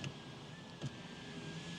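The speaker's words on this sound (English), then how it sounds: "Car is running right now." A 2021-2023 Hyundai Elantra engine idles just after starting. It is a faint, steady, low hum with one brief soft bump partway through, and there is no speech.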